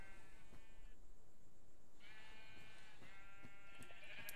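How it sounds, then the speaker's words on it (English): White sheep penned in a video game, heard as repeated drawn-out bleats, one after another and fairly close, over a steady low background noise with no talk. "there's a pen of 12 white sheep in here"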